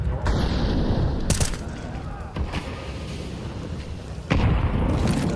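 A grenade explosion in Counter-Strike 2 during a Shanghai Major 2024 match booms amid dense gunfire and blasts. Sharp bursts hit near the start, the middle and the end over a constant crowded rumble.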